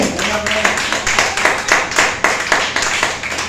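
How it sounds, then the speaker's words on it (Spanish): A church congregation claps together in a steady, rhythmic beat, roughly two or three claps per second, loud and close, with faint voices mixed in underneath. "Denle fuerte aplauso al Señor"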